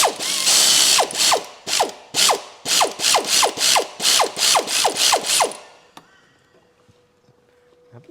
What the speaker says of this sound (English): I'm just going to use an impact here because it's just going to be quicker.